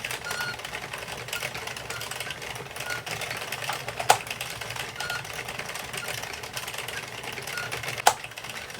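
Addi King circular knitting machine being cranked through rows for an adult beanie, a steady mechanical clatter and whir running continuously with two sharp clicks standing out, no talking.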